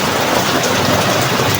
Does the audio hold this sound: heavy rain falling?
yes